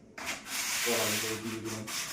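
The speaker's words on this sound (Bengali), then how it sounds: "দিয়ে দিলাম কোনাগুলো একটু ঘষে দিলাম" Corners of a chiselled wooden piece being rubbed smooth by hand, a close, steady scratchy rasping stroke lasting about two seconds, with someone briefly talking over it.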